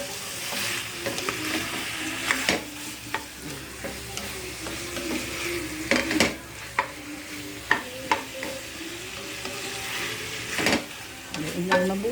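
Mixed vegetables with oyster sauce sauté in a pan, a steady sizzle broken by repeated scraping and clanking strokes of a utensil stirring, close and clear with no talk.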